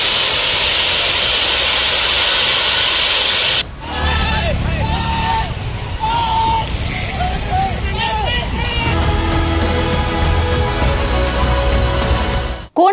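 A roaring jet-like fire burns from an ONGC gas well blowout during drilling in Konaseema district. The steady, loud roar continues under crowd babble and talking.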